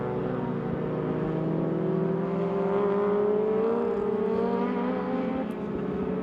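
An Aussie Racing Cars race car runs at Sydney Motorsport Park, its engine a steady sustained drone with a slowly rising pitch, as if accelerating out of a turn, loud and continuous without talk.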